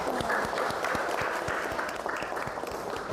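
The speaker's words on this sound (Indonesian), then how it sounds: "kita sekali lagi sih berikan aplaus kepada teman kita" Audience applause in a university teaching session, steady scattered clapping of a modest crowd heard at moderate distance, continuous throughout with no talk over it.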